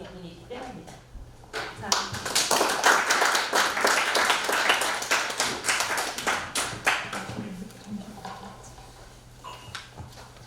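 An audience applauds after a lecture in a hall, with dense clapping that swells, holds steady for several seconds and then thins out toward the end.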